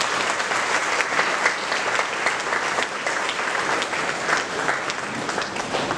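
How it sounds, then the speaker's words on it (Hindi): Sustained applause from an audience at a Brahma Kumaris centre event welcoming young performers, loud and dense clapping that carries on steadily without a break. "ताली बजा कर युवाओं का स्वागत करें।"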